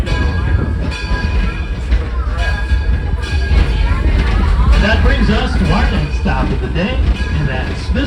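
A train at Greenfield Village's railroad rumbles steadily along the rails with a constant low roar and rattling, while voices murmur faintly in the background throughout.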